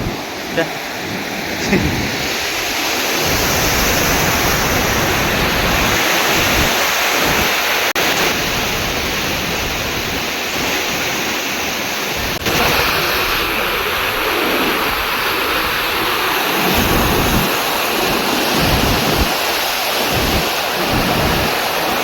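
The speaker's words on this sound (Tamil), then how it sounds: "மெயின் ஃபால்ஸ் இப்படி தான் இருக்குது" Hogenakkal waterfall on the Kaveri river roars as a loud, continuous broadband rush of falling water at the main falls, with faint voices now and then underneath.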